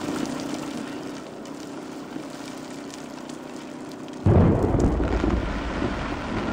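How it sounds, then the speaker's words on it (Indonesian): Steady rain hisses under a low rumble, then a loud, close crack of thunder breaks in and keeps rolling heavily to the end. "Sekarang lagi hujan."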